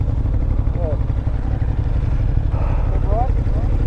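A BMW R1300 GS Adventure Triple Black motorcycle riding on the road, its engine a continuous low throbbing drone close to the microphone, with a voice talking over it.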